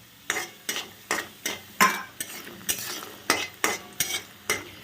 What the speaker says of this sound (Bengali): এবার বড়িটাকে দেখো ভেজে নেবে প্রথমে লাল লাল করে